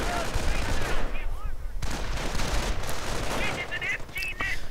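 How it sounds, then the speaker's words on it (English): An MG42 machine gun emplacement in a World War II strategy game fires bursts amid battlefield gunfire and other combat noise. "That is the machine gun emplacement."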